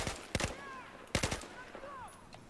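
Game gunfire in Battlefield 4 on the Dammbruch map: two short bursts of rapid shots about a second apart, fairly close and loud, with faint game effects trailing between them.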